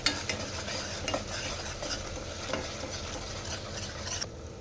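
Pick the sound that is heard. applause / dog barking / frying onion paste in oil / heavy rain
frying onion paste in oil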